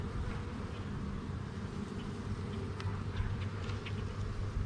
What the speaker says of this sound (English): how did that bee get up in there?